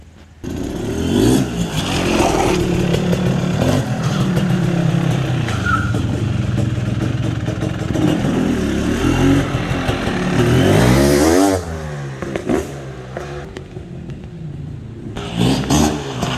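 A tuned 2023 GasGas 500 BRC single-cylinder motorcycle engine runs loud and close, holding a steady throb with a rising rev sweep near the end before dropping to a low idle.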